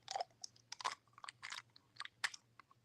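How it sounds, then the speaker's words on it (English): Bubble gum being chewed close up, with wet smacking and clicking bursts in an irregular rhythm, alone and without talk. "Oh, you chewing on some bubble gum?"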